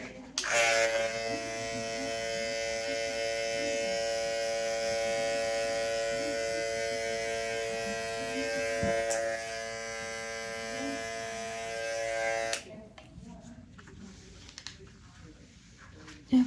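An electric hair trimmer buzzes continuously and close up for about twelve seconds during a high fade haircut, its steady whine cutting off abruptly before a quieter stretch of handling noise.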